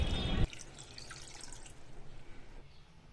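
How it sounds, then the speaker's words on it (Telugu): A glass of water is poured into a pot holding parijat and guava leaves, a short loud splash followed by faint dripping and trickling, close by with no talking. "1 గ్లాస్ నీళ్ళు పోసుకోవాలి."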